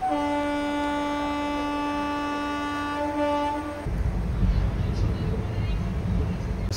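The Palakkad Town to Trichy express pulls out of Palakkad Town station in the early morning: a sustained loud horn blares for several seconds, then gives way to rumbling, clattering wheels on rails as the train gathers pace.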